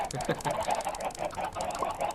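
Chickens in the Minecraft video game cluck in a quick, busy stream of overlapping calls, a dense flock sounding close and continuous for about two seconds with no voices.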